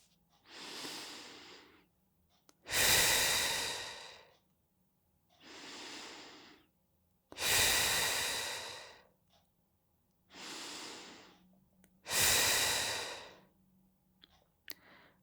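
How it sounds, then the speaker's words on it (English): Three slow, deep breaths during a guided heart chakra meditation, each a soft inhale followed by a louder, longer exhale, close to the microphone in an otherwise quiet room. "we're going to first take 3 deep breaths"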